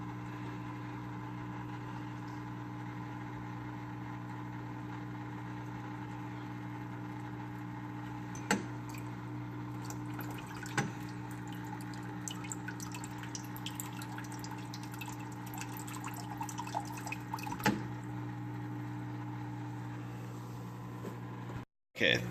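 An electric pump runs steadily, circulating vinegar through a tankless hot water heater, a constant droning hum with a few sharp drips and clicks scattered over it, close by and fairly loud.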